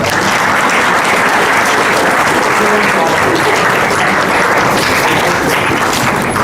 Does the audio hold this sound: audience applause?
yes